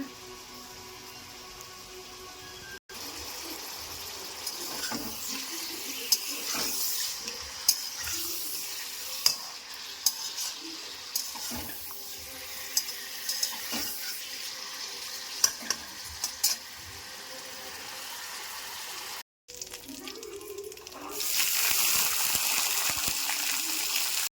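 Spice masala of ginger paste, tomato and chilli frying in a pan for kadai paneer, with a steady sizzle broken by repeated scraping stirs and brief clatters, close and fairly loud with no talking.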